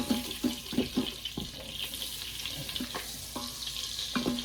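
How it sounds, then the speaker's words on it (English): Butter sizzles in the bottom of an Instant Pot while a utensil scrapes off browned bits, giving short rhythmic scraping strokes over a steady soft frying hiss. "make sure you scrape the bottoms to get the nice little brown tidbits"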